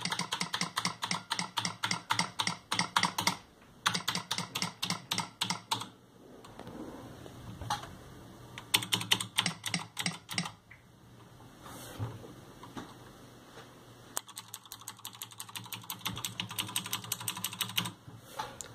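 Loud, close clicky typing on a Logitech G710+ keyboard fitted with Cherry MX Blue switches, coming in rapid bursts of keystrokes with short pauses between runs and no talk.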